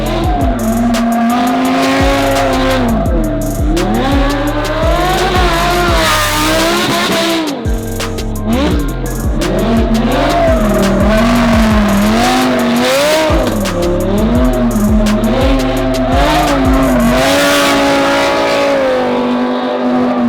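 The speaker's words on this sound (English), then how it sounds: "take the Huracan for a little spin around the corner" Lamborghini Huracan supercar powering around a corner, a loud close engine roar with repeated rising and falling revs and gear changes, tire noise underneath, continuous for about twenty seconds with no talking.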